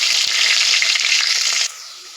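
Chopped onions hit hot oil in a pan for bendakaya masala curry, giving a loud, steady sizzle that drops sharply to a quieter frying hiss.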